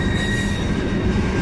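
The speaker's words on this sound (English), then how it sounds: "now we got the Canadian National 60-foot high cube boxcar" A Canadian National freight train with a 60-foot high cube boxcar rolls past close by, a loud continuous rumble of wheels on rail with steady high wheel squeal and no voices.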